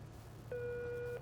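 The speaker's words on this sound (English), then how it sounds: "No one's answering the phone." A telephone rings unanswered, a single steady electronic ring tone lasting under a second over a low background hum.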